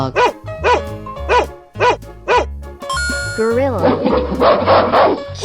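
Cartoonish dog barks from a 3D animal slide video game, several short sharp yips in a steady rhythm, loud and close, followed by a blend of game music and effects.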